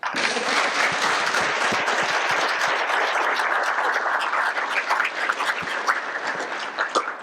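Steady, dense applause from a large crowd at an athletics hall of fame ceremony fills the whole stretch, many hands clapping at once without pause.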